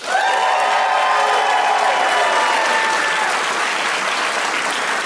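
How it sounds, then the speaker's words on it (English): Comedy club audience bursts into loud, steady applause with some cheering and whoops during a stand-up set, a dense, continuous wash of clapping that holds for several seconds. "by sound of applause, who here has never been arrested?"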